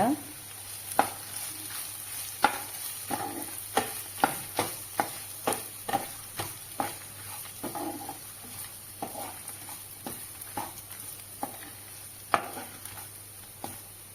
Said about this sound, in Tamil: இப்போ ஒரு கப்பு தேங்காவை இதில் சேர்த்துக்கிறேன் அதுவும் நல்லா வறுத்துக்கோங்க